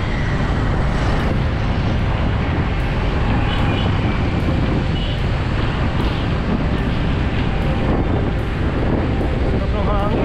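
Strong wind buffets the microphone in a constant loud roar, with some distant traffic-like rumble underneath, on Roxas Boulevard in Manila during a long ride.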